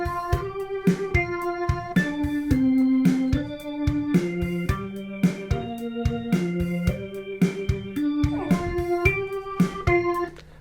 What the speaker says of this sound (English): So I've made a really simple 4-bar melody with a really simple drum beat. It sounds like this.